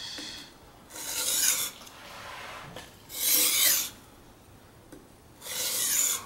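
A kitchen knife is drawn across a fine-grit wet whetstone in the 4000 to 8000 range, making three separate raspy, gritty strokes close up, with short quiet pauses between them.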